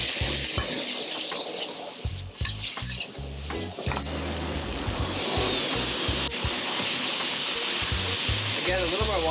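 Pad thai rice noodles with fresh prawns sizzle and fry loudly in a hot pan as a splash of water is added, a steady crackling hiss with stirring clatter throughout, faint voice in the background.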